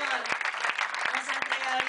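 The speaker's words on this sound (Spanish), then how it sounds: "¿Puedes dar un aplauso a Dios en este momento?" A congregation applauds during a wedding service at Iglesia Cristo Roca de Salvacion, giving a dense, sustained patter of many hands with a voice over it.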